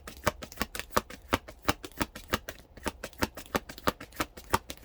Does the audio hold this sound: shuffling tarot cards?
yes